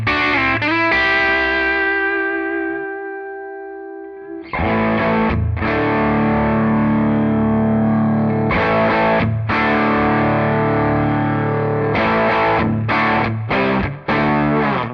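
An electric guitar runs through a Tonex at an extreme setting, heavily distorted with effects. A long sustained chord rings and fades, then choppy, chugging chords hit in loud bursts.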